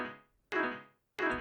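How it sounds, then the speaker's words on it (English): Short piano chord hits with a gritty, overdriven edge, three of them, each decaying quickly. "is an overdrive, and it sounds like this."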